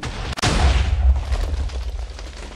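A single deep boom of TNT fired from a cannon during a faction raid in the video game Minecraft, a loud close blast followed by a rumbling, fading tail.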